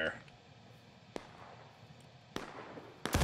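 Musket fire from a firing line in the Civil War video game War of Rights: a few sharp, isolated reports at irregular intervals over a quiet, low background, with the last shots louder and nearer.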